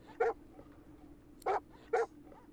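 Dogs in the video game Divinity: Original Sin 2 barking, three short, loud barks spaced irregularly over a quiet background.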